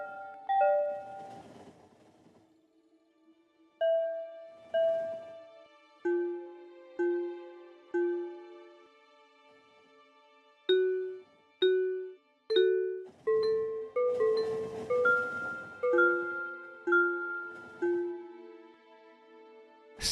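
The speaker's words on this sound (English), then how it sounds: "Sounds of wind chimes." Tuned chime tones in the video game Factorio ring out in a slow melodic sequence, bright bell-like notes with ringing decays, sparse at first and then clustered and overlapping, loud and clear with no talk.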